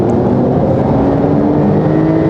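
A Porsche 911 Carrera 4 GTS engine accelerating, heard from inside the cabin: a steady drone with a deep rumble and harmonic whine, holding a constant roar without pauses.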